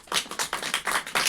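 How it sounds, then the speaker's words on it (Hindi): Classroom clapping for a student at a tuition class, with a handful of quick, fairly soft rhythmic claps close by. "तालियां बजा लो कंचन के लिए।"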